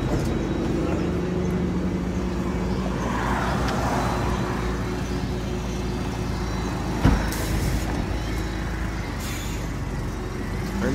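Interior of a MAN NG320 Lion's City 18 G articulated bus in Ljubljana, engine droning steadily with road rumble throughout, a single sharp knock or hiss of air midway.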